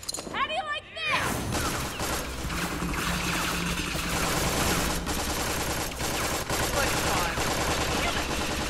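Loud gunshots and rapid automatic fire rattle through a fight scene in Tales from the Borderlands, continuous and close after a brief opening, with characters shouting over the shooting.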